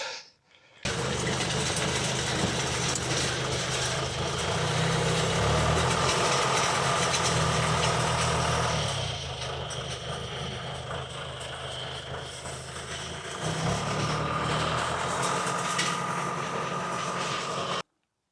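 A tractor engine idles steadily and continuously close by, hitched to a DIY horse arena drag. Its low rumbling hum carries through the whole stretch and eases slightly in the middle.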